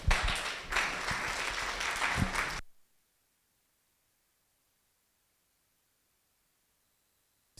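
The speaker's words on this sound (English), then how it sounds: "Round of applause, please." Audience applause at a conference talk: a dense, steady wash of clapping for under three seconds, then it stops abruptly into near silence.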